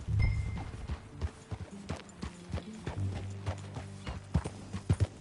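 Horse hooves from the video game Red Dead Redemption 2 clip-clop in an uneven trotting rhythm, close and fairly loud, with a brief snort near the start and no talking.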